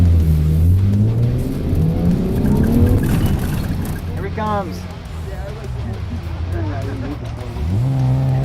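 A car runs a 1.6-mile autocross track in Central Oregon, its engine droning and rising in revs through gear changes, loud and steady throughout, with people talking over it.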